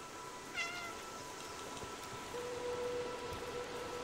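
A short, faint cat meow from the video game Stray rises once over a steady hiss like light rain, followed later by a thin sustained tone.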